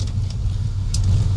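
A truck rolls over a bumpy road, giving a steady, loud low engine rumble with faint rattles and knocks from the bumps.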